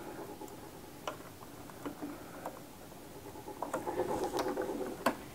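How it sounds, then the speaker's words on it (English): A 2mm hex screw on the hook of a Sette coffee grinder is turned loose with a hex key, making faint clicking, ticking mechanical sounds close by, busier toward the end. "loosen the 2mm hex screw that holds the hook in place"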